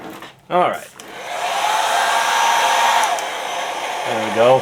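A hair dryer blows with a steady, whirring roar for a few seconds, close and loud, with short bursts of speech before and after.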